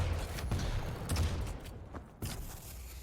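Heavy machine gun fire in a Quake Pro League deathmatch, heard as a dense run of rapid thumping shots with a brief lull near the end before the firing resumes.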